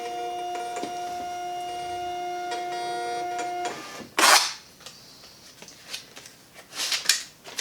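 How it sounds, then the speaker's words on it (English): A label printer whirs in a steady tone as it feeds out a 4x6 shipping label. A sharp tearing rip follows, then a few rustles and crinkles of paper nearby. "I just need to click the correct printer, and then that it's going on my 4x6 label"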